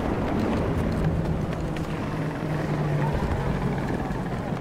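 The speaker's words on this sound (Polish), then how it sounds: "No to helikopter wroga," An enemy helicopter flies in Battlefield 2042: a continuous low rotor drone and engine rumble, loud and steady, under general battle noise.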